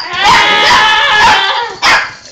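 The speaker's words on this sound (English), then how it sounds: "Is that Fluffy barking" A young dog barks in a close, loud, yappy burst, followed by a second short yip.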